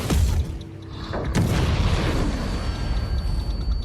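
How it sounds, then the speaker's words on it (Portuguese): Gas cylinders blow up in an action film scene, a sharp booming blast followed by a second heavy explosion, then a loud sustained roar of fire and debris rumbling on to the end. "explodindo os cilindros de gás"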